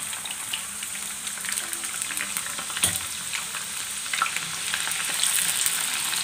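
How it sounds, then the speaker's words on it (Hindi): Chopped onions frying in a pan give a continuous close sizzle, with a few sharper clinks and scrapes from stirring scattered through. "इनको गोल्डन होने तक अच्छी तरह फ्राई करें"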